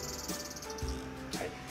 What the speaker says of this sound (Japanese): セミが気になりますね